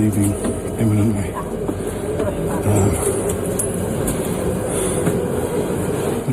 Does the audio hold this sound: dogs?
no